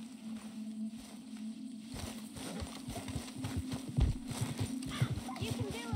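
Hooves of a horse in the video game Red Dead Redemption 2 clip-clop on the ground with an occasional snort, while voices speak over the steady footfalls.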